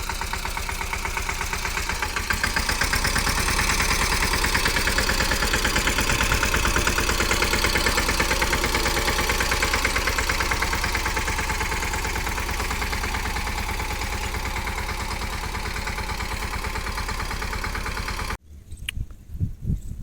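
A tractor engine idles close by with a steady low chugging throb for about eighteen seconds, then stops abruptly. A few faint clicks and thumps follow.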